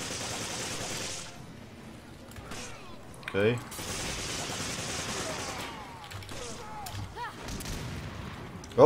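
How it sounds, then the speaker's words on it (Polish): Booming blasts in the video game Resident Evil 5, with a sharp burst about a third of the way in and another heavy hit at the end, set against continuous game noise and someone talking. "O, wybuch."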